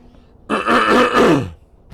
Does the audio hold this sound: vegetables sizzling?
no